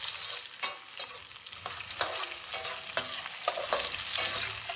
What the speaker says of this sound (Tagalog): ilagay na natin sa bawang at sibuyas. So sangkutsain lang natin ito.